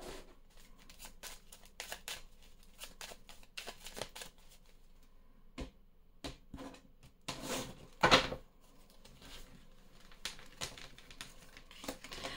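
Oracle cards are shuffled and drawn for a seven-card reading. Soft, close paper flicks and card snaps come in quick clusters, with one louder riffle near the end and no talking.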